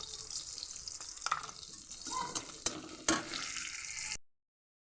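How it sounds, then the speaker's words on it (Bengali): Onion and panch phoron fry in oil for a pui shak dish, a bright close hiss with watery crackle and a few stirring knocks, cutting off abruptly near the end. "পেঁয়াজ আর এই যে পাঁচফোড়ন আছে এটা দিয়ে দেবো।"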